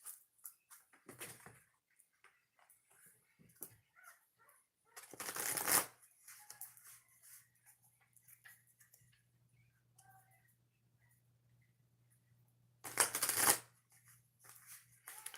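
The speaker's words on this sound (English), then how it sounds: "I need to mix up the cards before we start, okay?" A deck of tarot cards is shuffled in two quick riffling bursts, close and crisp, separated by quiet handling sounds and a faint hum.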